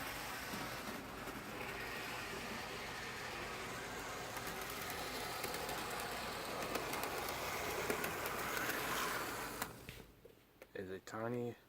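A model train at a train show runs past on a layout as a faint, continuous rolling rumble for about ten seconds, then fades. A voice speaks briefly as it clears.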